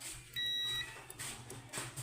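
A continuity tester gives a single steady electronic beep on a fuse from a Samsung digital inverter refrigerator, lasting about half a second, fairly clear against a quiet background, followed by faint handling noises.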